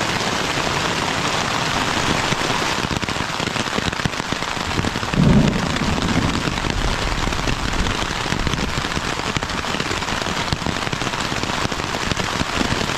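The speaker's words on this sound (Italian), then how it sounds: "È andato giù bello secco, è stato un bel temporale, un sacco di lampi fuori." A mountain thunderstorm on the Alta Via 1 in Valle d'Aosta drums steadily on a tent, heavy close rain with a single low thunder rumble breaking through midway.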